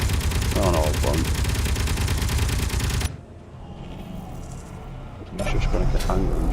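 An automated patrol turret in the space-building game Space Engineers fires long, rapid bursts of gunfire that cut out abruptly for a couple of seconds, then resume at full loudness.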